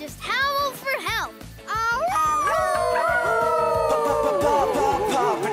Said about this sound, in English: if you're ever in trouble, just howl for help